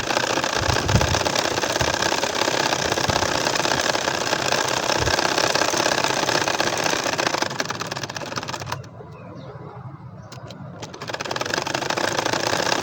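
Ordinary sewing machine running steadily while stitching a double-thread nakshi kantha quilt, a close continuous mechanical whir that stops briefly near the end and then resumes.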